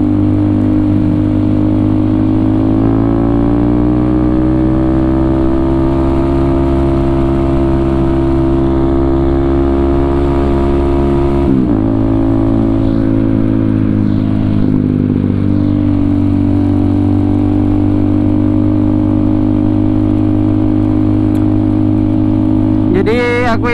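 Several motorcycles, including a Kawasaki ZX25R, Honda CBR150R and Yamaha MX King, Vixion and Vega, ride together at night. Loud steady engine drone rises and falls as they rev and shift, close by throughout, with no talking.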